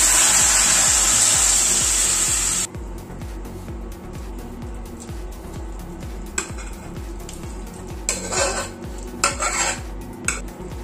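Cooked beef being tipped into a pan and stirred through, starting with a loud hiss that cuts off, then scraping and clanking of a spoon against the pan with a few sharper knocks.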